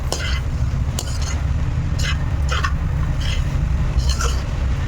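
Cabbage paneer fry is stirred in a pan, a spoon scraping and clinking against the metal in several quick strokes over a steady low sizzle, loud and close, with no talking.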